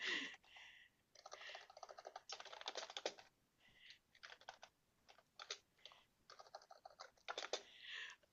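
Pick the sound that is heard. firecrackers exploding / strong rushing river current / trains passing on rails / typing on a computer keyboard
typing on a computer keyboard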